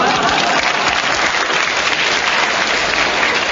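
Dense, steady applause from a studio audience during a radio panel game show, sustained at full loudness throughout with no voices above it.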